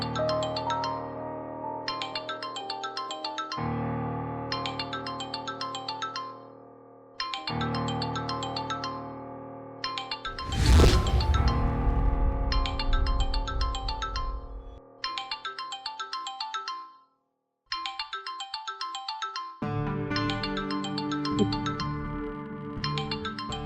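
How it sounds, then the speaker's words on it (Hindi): A mobile phone ringtone plays a repeating electronic melody in regular bursts separated by short gaps, loud and close, with a brief whooshing swell partway through and no talking. "देखो, इंस्पेक्टर का फोन आ रहा है।"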